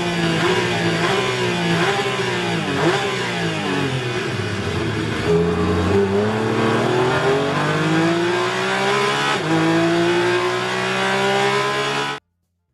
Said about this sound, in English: Now that is some serious racing there